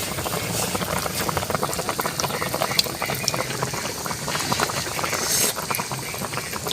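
A covered pot of tambakol fish with calamansi boils hard up close. Dense, continuous bubbling and rumbling stay loud and even throughout.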